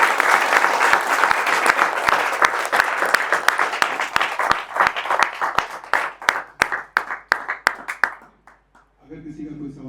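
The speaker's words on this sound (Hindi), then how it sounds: "एक बार और जोरदार तालियां।" A storytelling audience applauds after a story, dense clapping that thins into scattered individual claps before stopping, with a voice starting to speak at the end.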